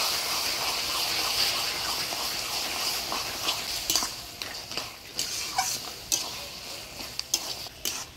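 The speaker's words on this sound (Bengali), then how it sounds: "এবার অল্প পিঠালো দিয়ে নাড়াচাড়া করে নামিয়ে দিই।" Bottle gourd curry with a fish head is stirred in a pan: a soft sizzling bed at first, then irregular scrapes and clinks of a utensil against the pan, moderately close and without talk.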